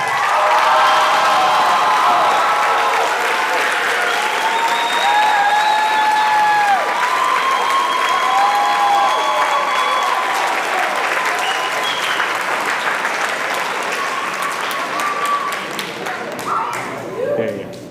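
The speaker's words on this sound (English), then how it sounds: "How about a huge round of applause for all this?" A school band spring concert audience gives sustained applause for nearly eighteen seconds, loud and dense, with tonal whistles and cheers rising over the clapping before it fades slightly at the end.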